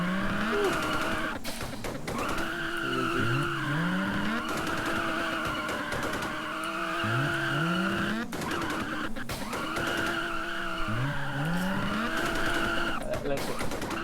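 A car in Roblox Driving Empire revs in repeating cycles, with exhaust pops and bangs crackling between the revs amid tire squeal. The sound is loud and continuous, with no talking.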